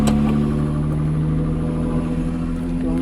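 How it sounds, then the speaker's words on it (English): A Jeep's engine idles steadily in a driveway, parked with the brakes set ahead of recovering a box truck, a close, even low rumble with a constant hum that holds for a few seconds. "engine idled up."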